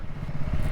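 A motorcycle engine braking on a steep, dangerous downhill road in India, a steady low mechanical rumble close by and continuous throughout, with no voices over it.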